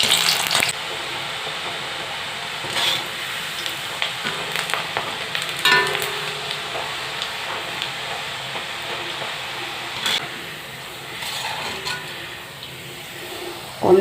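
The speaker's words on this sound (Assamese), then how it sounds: "কম জুইত ভাজিম" Cheese nimki frying in oil over low heat make a soft, even bubbling sizzle that runs throughout, broken by occasional clinks and stirring knocks, close and unaccompanied by talk.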